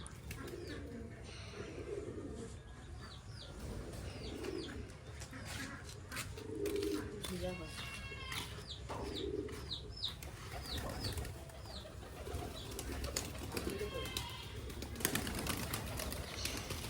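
Pigeons coo in a loft, soft repeated throaty calls from several birds overlapping continuously, with occasional wing flaps and faint background noise.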